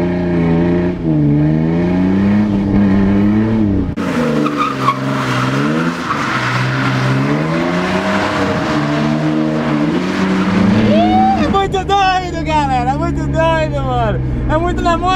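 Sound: pickup truck drifting with tires squealing

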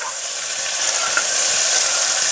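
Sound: vegetables sautéing in a pan for veg kurma

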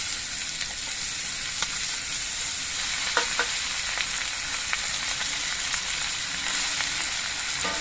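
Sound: vegetables added to hot oil with nigella seeds and green chilli, frying

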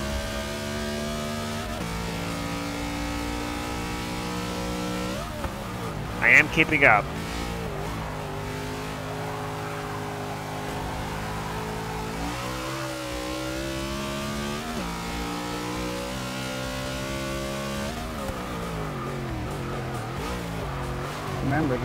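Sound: car revving and breaking traction in a racing video game

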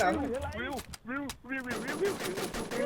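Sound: gunfire in a shooting video game

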